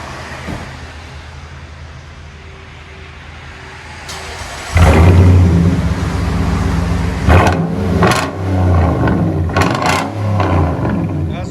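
A Nissan Titan 5.6L V8 with a Cherry Bomb exhaust idles quietly, then fires into a loud roar, with several sharp revs and surging throttle blips close by.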